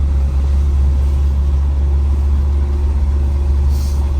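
A Suzuki Samurai or Bronco Heritage Edition off-roader creeping slowly in first or crawl gear over rough trail, heard as a loud, constant low engine rumble and drone close by, with no speech.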